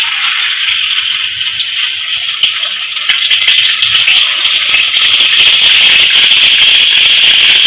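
Veg momo dough frying in hot oil, a steady bright hiss that fills the clip from start to finish, loud and close with no talk over it.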